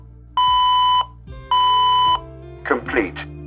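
A Cobolt Speechmaster talking combination oven's timer alarm sounds two steady, loud electronic beeps, each about half a second, then a synthetic voice speaks from the appliance.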